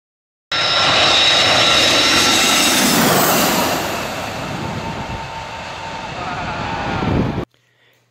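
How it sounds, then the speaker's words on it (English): A toy passenger aeroplane with a radar on its back gives off a loud, continuous aircraft engine roar that holds steady for several seconds, eases slightly in the middle, then cuts off abruptly. "the big aeroplane with a radar on his back"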